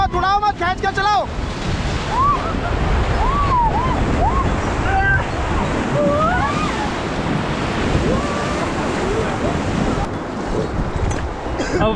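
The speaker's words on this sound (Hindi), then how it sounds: "रैपिड आ रहा है, रैपिड का नाम है डबल ट्रबल" Whitewater roars continuously as a raft runs the Double Trouble rapid on the Ganges near Rishikesh, a loud, steady rush of surging water with several voices shouting and whooping over it.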